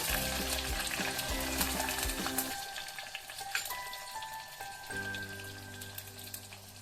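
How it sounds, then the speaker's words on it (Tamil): Garlic cloves fry in a clay pot for vattha kulambu, giving a continuous crackling sizzle with scattered pops over a steady low tonal hum in the background. No one talks. "உடனே நம்ம பூண்டு போடணும்"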